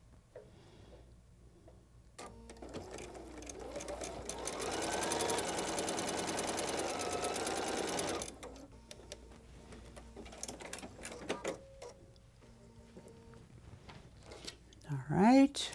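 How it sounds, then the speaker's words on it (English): A sewing machine stitches a quarter-inch seam along quilting fabric, a steady rapid whirring run of several seconds at close range, with quieter handling noises before and after. "I'm going to sew all the way down to this end."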